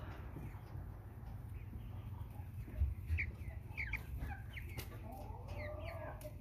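A nine-week-old American Bresse chicken clucks with short soft calls over a quiet farmyard background, and other fowl faintly chirp and cluck nearby.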